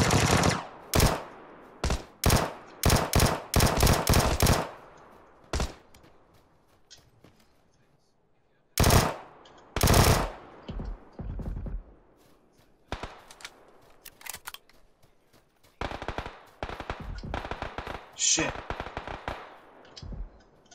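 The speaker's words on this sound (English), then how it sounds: "Got a Tommy gun." Tommy gun fire in a video game, coming in several rapid automatic bursts early on and again midway, with scattered shots and game sounds between and players talking.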